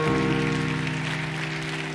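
Church audience applauding during an evening revival session, a dense, steady wash of clapping over sustained musical tones that holds for the full two seconds.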